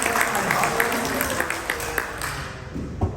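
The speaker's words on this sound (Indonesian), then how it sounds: "Boleh tepuk tangan yang meriah dong." Church congregation clapping during a service, scattered hand claps spread through the room with some voices underneath, gradually thinning out toward the end.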